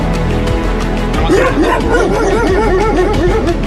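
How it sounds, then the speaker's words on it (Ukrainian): Rescued dogs evacuated from a flooded island area of Kherson bark and yelp in quick, close, loud bursts, with some whining, against a steady low background hum. "Ці собаки приїхали з Херсонщини."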